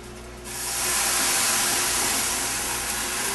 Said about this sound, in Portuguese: Agora a gente vai jogar o vinho branco flambar e deixar mais uns 2 minutinhos que o camarão já fica pronto.